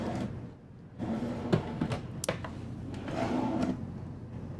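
Small drawers in a 2026 Newmar Dutch Star 4340 motorhome being slid open and shut, several short sliding rubs and soft knocks in quick succession, close and fairly quiet.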